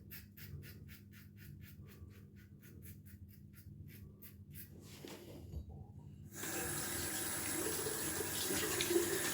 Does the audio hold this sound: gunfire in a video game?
no